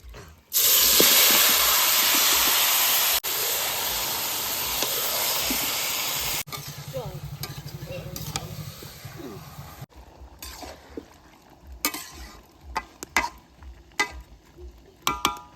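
Marinated duck meat drops into hot mustard oil tempered with bay leaf, dried chilli and cumin, giving a loud hissing sizzle that softens and then breaks into scattered clinks of stirring.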